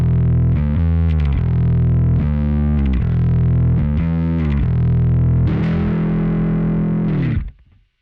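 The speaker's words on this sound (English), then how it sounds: "The second thing I have here in the B section is the first drive, and it sounds something like this." An electric guitar plays chugging, distorted chords and riffs through the first drive preset on a Quad Cortex, loud and dense throughout, ending on a sustained chord that cuts off abruptly.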